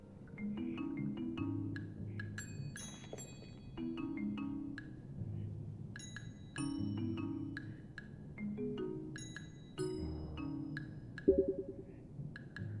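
Video game combat music: three loops from the same counterpoint play in random order, layered instrumental lines interlocking over steady pulsing chords in repeating phrases, moderately loud, with no voices.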